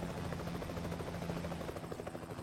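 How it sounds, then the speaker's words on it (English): A helicopter passes overhead, its rotor chop thumping in a steady rapid pulse under a continuous engine roar, loud and constant throughout. "Here's a helicopter overhead."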